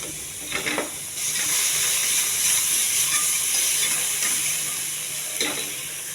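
Ginger garlic paste sizzling in a frying pan with cumin, onions and salt for a bitter gourd curry. A steady frying hiss swells after the first second and holds, with a few scraping stir sounds.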